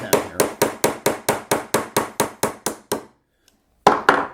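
A nylon hammer taps a pin into a Magpul EHG grip module on a Ruger RXM pistol, about twelve sharp, evenly spaced close knocks, then a pause and two more taps.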